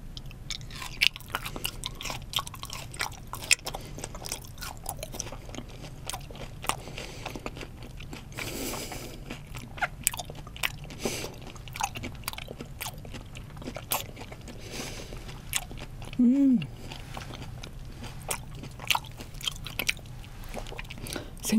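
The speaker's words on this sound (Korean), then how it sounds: "생긴 건 이래도 약간 얼어가지고 살얼음도 씹히고요" Frozen fish head being bitten and chewed, with icy crystals crunching, in close, steady crunches and gnawing sounds across the stretch, alone without talk.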